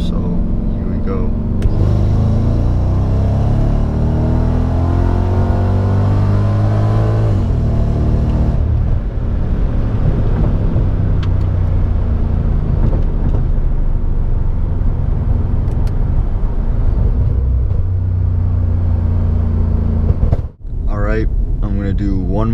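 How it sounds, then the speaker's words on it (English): A supercharged M113K car makes a second-gear pull from 40 mph, its engine and supercharger whine climbing steadily for about twenty seconds before a brief shift break. The sound is loud, interior and continuous, with a voice speaking over it. "we're gonna do a second gear pull from 40"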